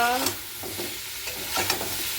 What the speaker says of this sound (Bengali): তেল দিয়ে ভাজা, বেশি তেল দিয়ে নিই